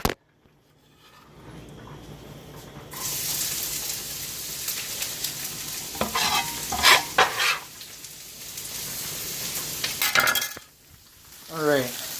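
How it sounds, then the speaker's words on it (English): Steady sizzling of onions frying in oil fills the clip, with occasional scraping and clinking of a utensil stirring in the pan. "we got some onions frying in the oil"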